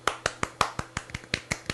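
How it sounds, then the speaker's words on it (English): Slow, polite golf clap from a single person, about ten sharp, crisp hand claps at a steady even rhythm, close and clear with nothing else in the background. "I think we all deserve a golf clap."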